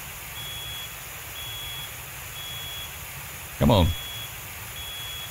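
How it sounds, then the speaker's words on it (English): A smoke alarm chirps during a big house fire in the firefighting game Into the Flames: short high beeps repeat about once a second, steady and fairly faint, and a voice briefly speaks over them. "I don't see the alarm"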